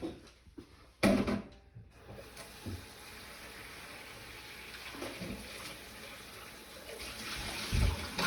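Water is poured into a roasting pot holding pot roast meat with potatoes, carrots, celery and onions, making a steady, faint splashing pour after a brief clatter at the start.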